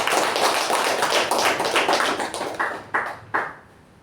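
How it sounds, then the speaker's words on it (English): Audience applause at a Toastmasters club meeting, a dense burst of many hands clapping that thins out toward the end into a few scattered last claps. "Give her a big round of applause."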